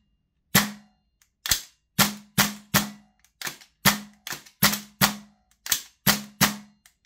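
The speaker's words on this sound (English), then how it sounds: "let's try a couple of shots here." A Double Eagle Mark 18 clone airsoft gas blowback rifle fires about fourteen sharp, close single shots in an uneven rhythm, each crack followed by a short metallic blowback clack, with no talking.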